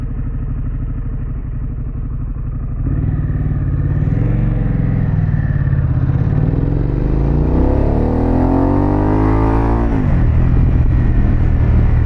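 A Harley-Davidson Pan America motorcycle fitted with a Vance exhaust rides on a cool New Jersey road, its deep engine rumble steady at first, then swelling as it revs and accelerates through the gears before settling back, loud and close, no voices.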